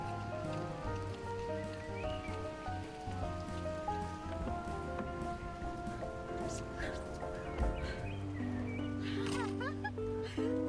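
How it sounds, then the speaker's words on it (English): Steady rain patters on surfaces outdoors on an October day, a continuous soft hiss with scattered drips, while people talk over it. "even though it's raining, but it's just about to pour"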